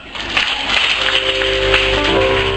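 A church congregation at a praise and worship service in Yopougon applauding, a dense wash of clapping that swells and holds steady, fairly loud and close, with a sustained tone beneath.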